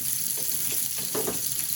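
Cauliflower frying in a pan with coriander leaves added, a steady close sizzle with a few soft stirring scrapes and no talk.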